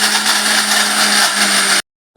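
A kitchen mixer grinder whirs loudly and steadily while grinding roasted peanuts coarsely for peanut laddoos, a constant high motor drone that cuts off abruptly near the end.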